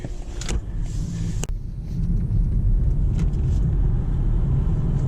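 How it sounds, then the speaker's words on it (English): A BMW i4 M50 electric car accelerating hard from 0 to 60, heard from inside as a steady, loud low rumble of road and drivetrain noise that builds and holds, with a couple of brief clicks early on. "Let's do a little acceleration here."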